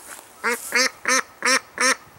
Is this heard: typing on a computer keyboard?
no